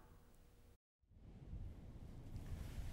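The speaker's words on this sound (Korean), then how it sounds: "거대한 파도가 도로를 덮칩니다" Heavy surf pounding along a coastal road beside Sacheonjin beach in Gangneung, a low, roaring wash that swells after a brief dropout into a continuous rumble of breaking waves with wind.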